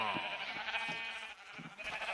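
Several sheep in the video game Minecraft bleat in quick succession, close and moderately loud, over a steady background of game noise.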